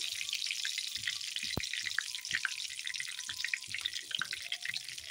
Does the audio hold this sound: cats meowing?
no